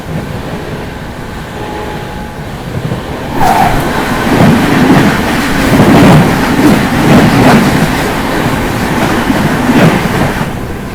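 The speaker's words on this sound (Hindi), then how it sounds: "अभी बगल से क्रॉस होने वाली है लखनऊ स्वर्ण शताब्दी एक्सप्रेस।" The Lucknow Swarna Shatabdi Express passes close alongside, a low rumble of rail noise that swells into a louder whoosh and clatter of passing coaches midway, then eases slightly.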